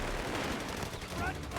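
Dense, continuous battlefield gunfire from a tank engaging a machine gun position in Company of Heroes 3, a steady rattle of shots and blasts filling the short stretch with no pause.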